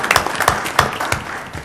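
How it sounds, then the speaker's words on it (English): A brief round of applause for a board member at a board of education meeting, a handful of distinct, fairly close claps in a loose rhythm that fade slightly toward the end. "So let's give Jerry a round of applause as well."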